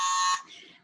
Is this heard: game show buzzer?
yes